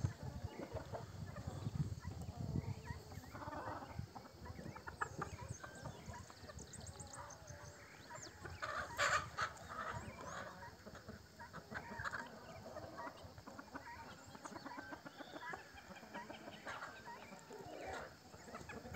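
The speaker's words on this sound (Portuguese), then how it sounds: "As galinhadas aí, ó." Chickens clucking at a rural smallholding, a faint, scattered chorus of fowl calls spread over background farmyard noise with occasional indistinct voices.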